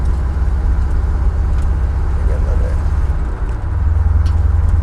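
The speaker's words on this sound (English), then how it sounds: "Can you hear the sound in the exhaust change?" A 1976 Pontiac Firebird cruising on the highway gives a loud, steady low exhaust drone from inside the car, which dips briefly and then settles into a slightly different, smoother tone as it goes into fourth gear.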